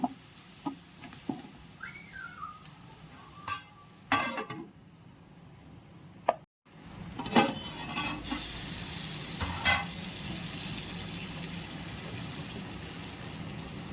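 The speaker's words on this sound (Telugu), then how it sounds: "కారం వేసి కలుపుకొని మూత పెట్టి మగ్గించుకోవాలి" Chili powder is stirred into egg curry in a pan: scattered spoon scrapes and clinks over a soft sizzle, with a few sharper knocks and a short silent gap midway.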